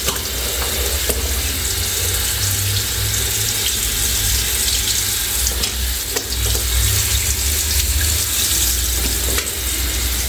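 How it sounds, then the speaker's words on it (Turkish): Tap water runs steadily over muddy shoes in a sink, a loud continuous splashing spray with no talking. "İlk önce biraz ıslatalım ki çamurlarını çıkartabilelim."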